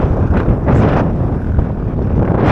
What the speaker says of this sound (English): That wind is unrelenting